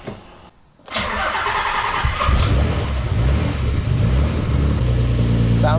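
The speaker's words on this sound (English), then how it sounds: "let's start the car, see how it runs" A Nissan 300ZX engine cranks briefly after a moment of quiet, then catches and settles into a steady, loud idle that runs on continuously with a slight rise in revs, close to the car.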